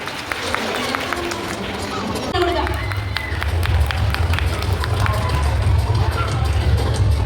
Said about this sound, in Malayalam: നല്ലൊരു ക്ലാപ്പ് തന്നെ ആ മക്കൾക്ക് നൽകാൻ കേട്ടോ.